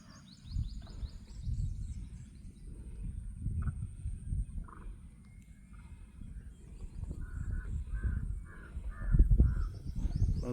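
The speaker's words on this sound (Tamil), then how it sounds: "இந்த வெளிநாட்டு பறவை பாருங்கள்." Crows caw repeatedly in open fields, a run of harsh calls at moderate distance over a low outdoor rumble, with other birds chirping faintly.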